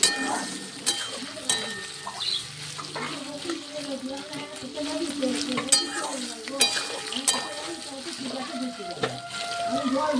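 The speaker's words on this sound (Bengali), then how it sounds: "আলুগুলা সামান্য ভাজা ভাজা হয়ে গেলে এরপর আমি সয়াবিনগুলা ছেড়ে দেব" Soybean chunks and potatoes frying in hot oil, a steady sizzle with spoon stirring and scraping throughout, close and moderately loud; faint background voices are also present.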